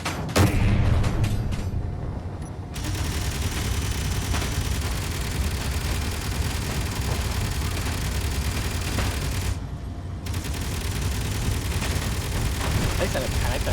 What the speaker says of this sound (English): So much gunfire.